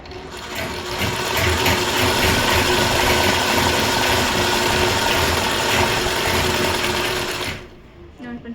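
A sewing machine stitches an overlock-style edge in white thread with a small stitch length, running in one continuous loud, close whirring burst for several seconds before stopping.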